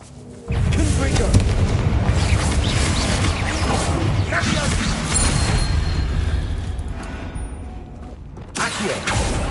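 A Confringo fire spell in Hogwarts Legacy bursts with a sudden loud blast, followed by a sustained roaring crackle that slowly fades, then another burst near the end; a voice is heard faintly under it.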